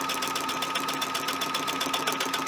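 A domestic sewing machine sews a one-step automatic buttonhole, a continuous close motor hum with rapid needle chatter throughout, no talk.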